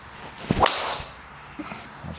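A single sharp swish of a golf driver, a Titleist GTS3 or Callaway Quantum Triple Diamond Max, ends in a crisp impact on the ball, followed by quiet outdoor ambience.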